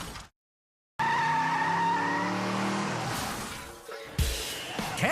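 A car skids on an icy corner without ABS, with a loud tonal tire squeal and engine sound after a brief silence, fading before a sharp thump and further rough noise.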